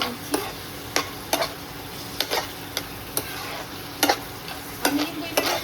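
Cabbage with slit green chilli being stirred in a frying pan, a spatula scraping and tapping in irregular strokes over a low steady sizzle, close and moderately loud, with no voices.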